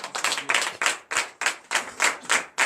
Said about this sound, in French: je nous demande humblement de donner de vives acclamations à Dieu